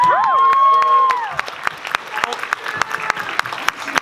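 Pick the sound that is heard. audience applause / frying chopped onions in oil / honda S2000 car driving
audience applause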